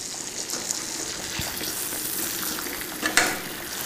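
Chicken frying in a pan gives a steady, close sizzle and crackle, with a few sharper pops near the end and no voices.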